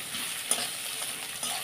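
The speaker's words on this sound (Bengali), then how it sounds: "এবার পেঁয়াজ রসুনটা খানিকক্ষণ ভাজবো" Chopped onion and three crushed garlic cloves fry in a pan with a steady, soft sizzle and one brief clink of stirring, with no talking.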